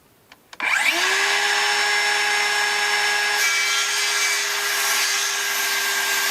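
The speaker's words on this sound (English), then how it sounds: "So we'll go to the far end and cut that piece off" A saw cuts a wooden beam for a 16x40 cabin floor foundation. A few faint knocks come first, then a loud, steady whining drone starts and runs evenly for about five seconds, with no talk.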